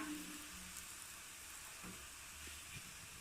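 A flower-shaped mold for Khanom Dok Chok batter sits in hot frying oil, giving a faint, steady sizzle and fine crackling hiss with a few soft clinks, no voices over it.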